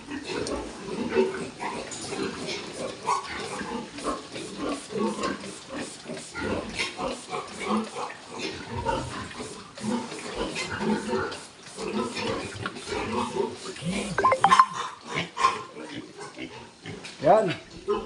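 Pigs on a farm grunt and oink steadily while being fed, with someone talking over the animals throughout, joined by splashing and clatter from the pens.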